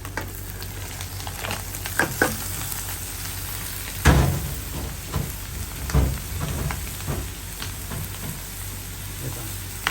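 Vegetables for pancit canton sizzle and fry in a pan, a steady crackle broken by several sharp scraping stir strokes, loudest around the middle, with no talking.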